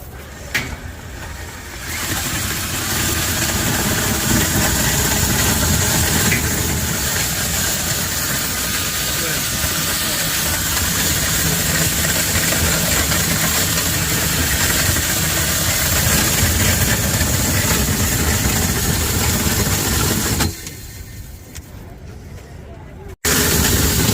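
A grain auger driven by a Milwaukee drill, at the Husker Harvest Days farm show in Nebraska, runs with a loud, steady whirring drone for about twenty seconds before cutting out, with faint voices in the background.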